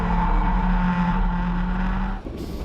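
Race cars at Zwartkops circuit roar through turn 4, engines droning loud and near before the sound drops away and shifts as the cars pass and fade.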